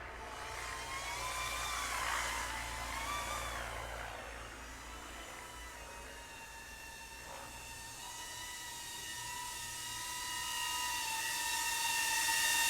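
GEPRC Cinebot 30 drone in flight, a steady high-pitched propeller whine with shifting tones that rise and fall as it maneuvers, heard alone at moderate distance.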